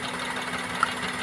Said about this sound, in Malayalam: എങ്ങനെയാണോ നേരത്തെ നമ്മൾ സ്റ്റാർട്ട് ചെയ്ത എൻജിൻ, അതേ വൈബ്രേഷനിൽ തന്നെയാണ് എൻജിൻ നിൽക്കുന്നത്.